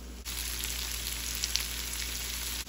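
Green beans stir-fry in a hot pan with a steady, soft sizzle, continuous and fairly quiet, with no talking.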